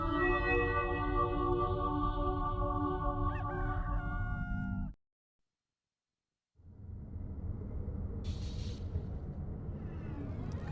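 A cartoonish rooster crows loudly from the video game Mort the Chicken, a long harmonic cock-a-doodle-doo with clucks, then a brief silence before a low rumbling passage with a sharp burst near the end.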